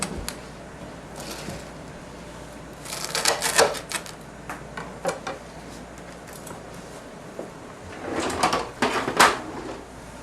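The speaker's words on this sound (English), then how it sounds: "I'm going to take my chef's knife, and I'm just going to cut it into 4ths." A chef's knife quarters a potato, giving clusters of crisp, close taps and clicks in two bursts with quieter gaps between them.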